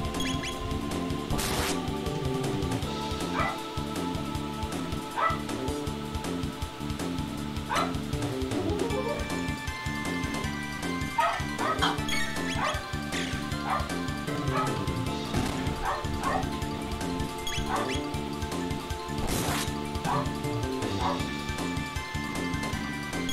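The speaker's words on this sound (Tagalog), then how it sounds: "dinig yung aso dun sa... yung aso namin" A pet dog barks repeatedly from elsewhere in the house, wanting to come inside, its yips and barks sitting under someone talking and retro video game music during a gaming session.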